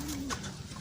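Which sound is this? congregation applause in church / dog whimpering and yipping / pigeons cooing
pigeons cooing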